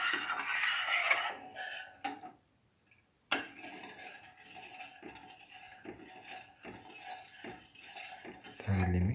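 A spoon scrapes and rasps around a pot of sweet beetroot corn pudding as it is stirred to dissolve the sugar, with close, uneven scraping strokes, a short pause, then more scraping and a louder knock at the end.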